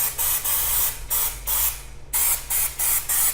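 Loud hissing bursts from an aerosol spray can aimed at a stained ceiling, short repeated sprays with brief pauses between them, close to the microphone.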